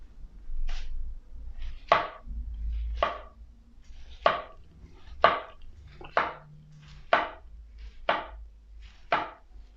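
A knife slices through a chicken teriyaki sushi roll in about ten crisp, evenly spaced chops, each a sharp close thud against the board, with no voices.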